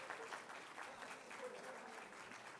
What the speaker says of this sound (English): We will take a moment to welcome him with a round of applause.